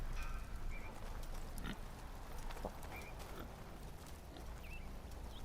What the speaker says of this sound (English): I hear a pig.